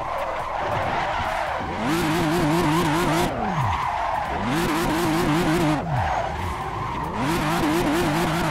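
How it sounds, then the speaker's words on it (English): A car drifts in the Assetto Corsa racing game, its tires skidding and squealing in three long sweeping bursts over a steady engine drone, loud and continuous with no talk. "I'll get used to drifting with the regular brakes sometime"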